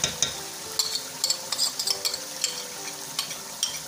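A spoon stirs a yogurt and spice mix into a tomato base frying in a pot for chicken biryani, with a steady sizzle and repeated scraping and clinking strokes close up.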